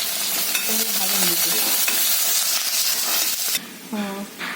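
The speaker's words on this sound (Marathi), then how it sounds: "प्लेटमध्ये तेल घालते थोडं थोडं कांदा घातला" Onion frying in oil in a pan with a dense steady sizzle and a few spatula clinks, and a voice speaking briefly over the cooking.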